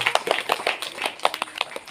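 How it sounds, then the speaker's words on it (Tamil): A church congregation at a feast Mass for Saint Devasahayam in Parpanathapuram applauding, with dense, quick overlapping hand claps at close range. "சத்தமாக கைத்தட்டி நம்முடைய பாராட்டுகளை தெரிவித்துக் கொள்வோம்"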